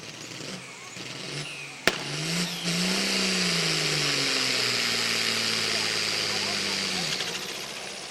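A truck-and-tractor-pull tractor engine revs loudly and steadily after a sharp bang, its pitch rising and falling for several seconds close by before cutting off.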